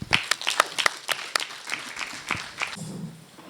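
Audience applause at a local government college convocation in Dodoma, a scattering of sharp claps that builds and then thins out over a few seconds, with a low murmur near the end.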